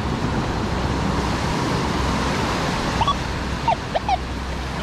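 Steady, roaring surf washes over a wet-sand beach, a dense and constant wash of breaking waves close by, with a few faint high chirps near the end and no talking.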